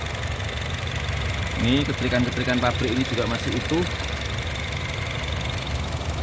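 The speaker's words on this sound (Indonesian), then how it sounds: "Suara mesinnya pun juga masih anteng banget teman-teman, halus." A 2018 Honda HR-V E automatic idles with a steady, even low hum beneath someone talking close by.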